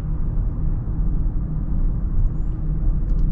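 Steady low rumble of road and engine noise inside the cabin of a 2024 Honda Pilot on the move, smooth and continuous with no talking.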